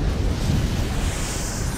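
A huge explosion in the video game Valkyria Chronicles, like a nuclear blast, roars as a loud, sustained broadband rumble with crackling texture for the whole stretch, without talk.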